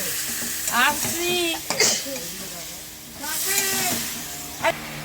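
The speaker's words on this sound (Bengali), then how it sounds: "মাংসটা দিয়ে একটু নেড়ে নেবো।" Chicken pieces go into a hot pan and get stirred, giving a steady frying sizzle with scraping stir strokes, while someone talks over it in two stretches.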